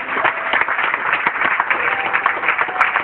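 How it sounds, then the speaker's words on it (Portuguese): A conference audience at a church gathering in Angola bursts into loud, dense applause, a steady wash of many hands clapping close by for the whole stretch, with no voices over it. "Aplausos a Deus."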